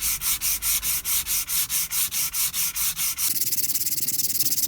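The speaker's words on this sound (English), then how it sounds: "Oh look, more sanding." Hand sanding of a laser-engraved resin house number sign with 320-grit paper: about a dozen steady back-and-forth strokes, then quicker, lighter rapid scrubbing, close and alone.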